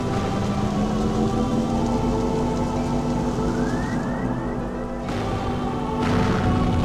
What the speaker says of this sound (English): The raindrops in that shot are the best part to me.